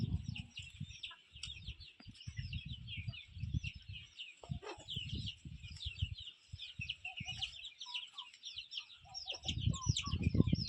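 Chickens in a farm coop cluck and chirp repeatedly, with scattered calls over a low rustling background, moderately close.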